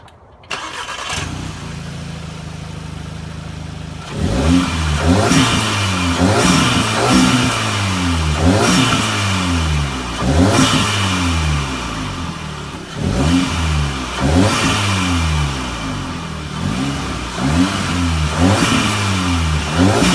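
Audi S3 fitted with an AFE Pro 5R cold air intake starting up, then idling and revving repeatedly, with loud rhythmic rises and falls in engine pitch recorded close and without talk.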